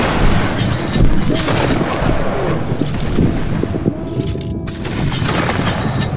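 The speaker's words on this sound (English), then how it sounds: "Alright, keep firing, keep firing." Sustained volleys of musket and artillery fire from a Napoleonic line battle video game, dense overlapping shots and booms rolling continuously with a loud, busy battlefield texture throughout.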